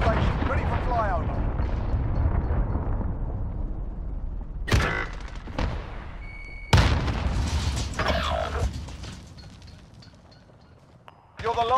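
Booming missile blasts and gunfire from a Call of Duty: Modern Warfare match, with sharp loud impacts around the middle and end over a rumbling battlefield bed, while voices talk through much of it.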